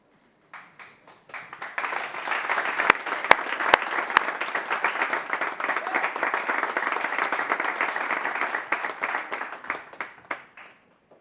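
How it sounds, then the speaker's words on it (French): An audience claps and applauds at a live stage show, starting with a few scattered claps that build into sustained, dense applause for several seconds before tapering off to single claps. "c'est vos applaudissements, ils sont bons"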